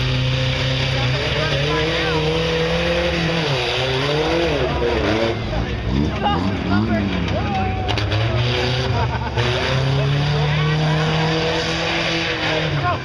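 A 1981 Dodge truck racing through a tough truck course, its engine roaring loud and close with rising and falling revs, while an announcer talks over it.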